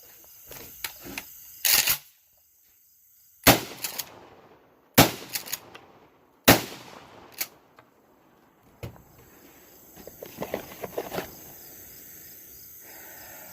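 A 12 gauge shotgun loaded with Remington 2 3/4 inch 00 buckshot fires five or six loud, sharp blasts at irregular intervals, each followed by a short ringing decay, with quiet outdoor background between shots.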